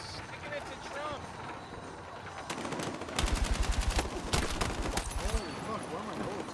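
Rapid bursts of automatic gunfire in the shooter game Battlefield 6 crackle in clusters over a busy background, with a voice talking through it.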